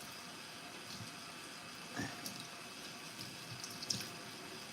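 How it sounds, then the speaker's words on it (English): Running water from a tap, a quiet steady wash with a few soft splashes and drips, faint and continuous throughout with no talking. "Can you guys hear the water?"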